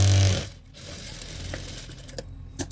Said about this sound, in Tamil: இந்த துணி எங்க இருக்குதோ அதே மாதிரி அது மேலேயே அப்படியே வச்சு தையல் போடணும்